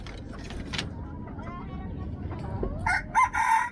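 A labuyo (junglefowl-type) rooster gives a short, clipped crow near the end, rising from a low background rustle and faint murmurs; the call is brief and cut off rather than drawn out.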